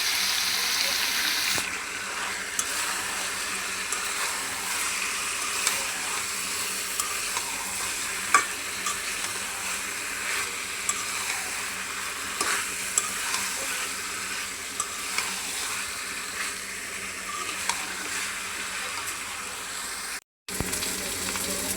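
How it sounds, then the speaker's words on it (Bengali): Chicken pieces sauté with spices in a pan, giving a steady, close sizzle with occasional light scrapes and taps from stirring. A faint voice can be heard, and the sound drops out briefly near the end. "এখন মুরগিগুলো দিয়ে আমি ভালো করে কষাই নিতেছি"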